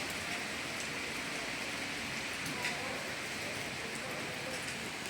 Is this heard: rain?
yes